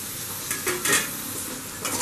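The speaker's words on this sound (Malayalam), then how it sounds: "നമുക്കിതിലോട്ട് ഒരു ടൊമാറ്റോ സ്ലൈസ് ചെയ്തത് ആഡ് ചെയ്യാം" Sliced tomato goes into Kerala fish mappas masala and is stirred, a low steady sizzle from the pan broken by a few soft scrapes and light knocks of a spoon.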